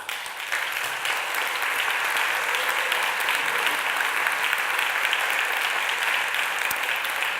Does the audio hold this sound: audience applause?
yes